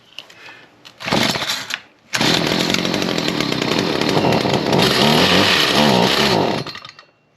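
Small two-stroke engine on a Craftsman chainsaw, pull-started with a couple of short cranking bursts before catching and running loudly at a steady, slightly wavering high idle for several seconds, then cutting off.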